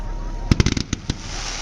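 Fireworks crackle at a college 50th anniversary celebration: a quick cluster of six or seven sharp pops, followed by a couple of later bangs, heard at a moderate distance over steady background noise.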